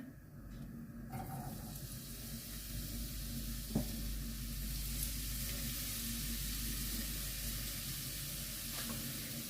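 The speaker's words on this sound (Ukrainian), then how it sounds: "І смажимо все також до кінця." Zucchini fry in hot oil in a pan with a steady, loud sizzle and crackle, with occasional stirring scrapes and a light tap partway through; nobody speaks.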